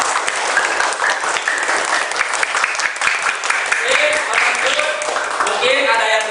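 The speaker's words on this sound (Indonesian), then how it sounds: "Tepuk tangan untuk semuanya." Classroom of fifth-grade pupils clapping together in a sustained, dense burst of applause, close and loud throughout, with children's voices calling out over the clapping toward the end.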